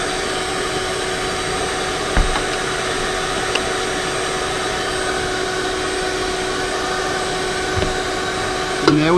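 A vacuum cleaner runs nonstop with a loud, steady rushing whine while a leaking oil drain plug gets a new copper crush washer. A few faint clicks and taps of work sound beneath it.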